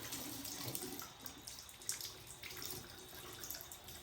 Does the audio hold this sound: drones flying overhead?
no